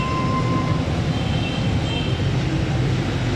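A 2020 Honda CD 70 motorcycle engine idling, a steady low rumble close by, with no talking.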